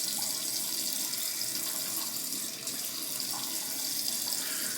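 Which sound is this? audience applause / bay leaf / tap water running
tap water running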